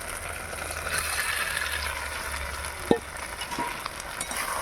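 Fried potatoes and egg-fried soybeans are stirred into a sizzling spice masala, a constant close frying hiss with one sharp utensil knock near the middle and a few softer scrapes, no voices.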